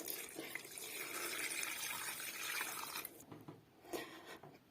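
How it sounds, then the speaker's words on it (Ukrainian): Ordinary cold water pours into a pot holding glass jars for sterilising, a steady gushing fill for about three seconds that then tapers to a few splashes and drips nearby. "заливаю звичайною холодною водою, ось так, по плечки баночок"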